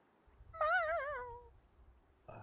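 A cat meows once in a drawn-out, wavering cry, close and fairly loud, against a quiet low background, with a brief burst of another sound starting at the very end.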